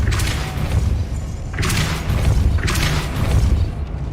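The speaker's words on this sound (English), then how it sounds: "Depulso." A Depulso force spell cast in the Hogwarts Legacy video game, with three loud booming bursts about every one and a half seconds over a steady low rumble, and no voices.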